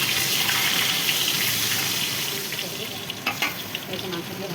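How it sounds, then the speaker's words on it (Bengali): Potatoes tossed into hot oil with cumin seeds sizzle and crackle steadily, close by, with some stirring and a brief clatter near the end; no one speaks. "তেল দিয়ে দিয়েছি, জিরা দিয়ে দিয়েছি, আলু দিয়ে দিলাম, তেল গরম হয়ে গেছে"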